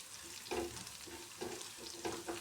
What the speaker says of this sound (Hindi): इसको भी अच्छी तरह कुक करें, भुनाई करें ताकि खुशबू आने लग जाए चिली फ्लेक्स की।